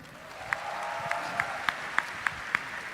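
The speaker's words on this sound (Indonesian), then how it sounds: "Tepuk tangan dong" A live comedy roast crowd claps for about three seconds, steady and moderately loud, with a few sharper individual claps standing out above the wash.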